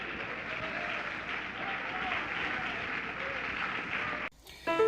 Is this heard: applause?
yes